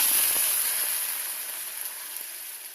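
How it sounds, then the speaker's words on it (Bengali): Potatoes frying in a pan of oil with cumin seeds, with a small amount of water making it bubble hard, give a steady close hiss and sizzle that slowly eases off. "আলুটা একটু লাল লাল করে ভেজে নেবো"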